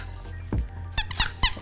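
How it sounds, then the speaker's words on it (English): A squeaky dog toy squeaks several times in quick succession, sharp close high-pitched squeals after a soft thump, used to catch the attention of a five-week-old puppy. "We got squeaky toys."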